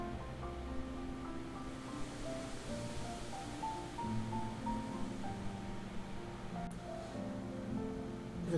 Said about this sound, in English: You can hear the wind blowing behind me.